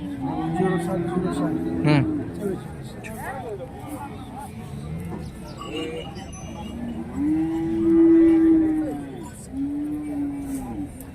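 Several cattle moo loudly nearby, long drawn-out calls rising over the steady chatter and bustle of a crowded bull market, with Khillar bulls, in Salegaon.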